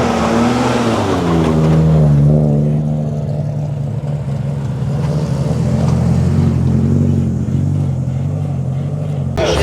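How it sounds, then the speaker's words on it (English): Drift cars rev and pass at GTR Festival 2024 in Australia, a loud engine drone that swells early and then settles into a steady roar, with someone talking over it. "Here we got some drift cars coming up."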